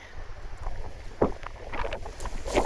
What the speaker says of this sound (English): Yeah, it's pretty windy